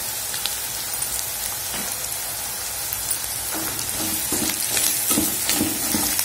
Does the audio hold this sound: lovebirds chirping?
no